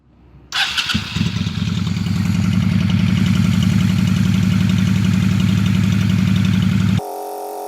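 A motorcycle engine cranks briefly, then catches and settles into a loud, steady, close idle with an even rapid pulse that cuts off abruptly near the end.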